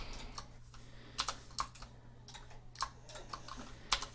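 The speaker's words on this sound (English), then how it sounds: "just shift clicking on these points and hitting J to join" Computer keyboard keys clicking at an irregular pace while entering Blender shortcuts, a few sharper taps standing out over a quiet room with a low hum.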